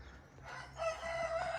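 A Sussex rooster crows in a backyard coop among hens, one drawn-out crow rising after a soft moment of clucking, moderately close and clear with faint low background noise.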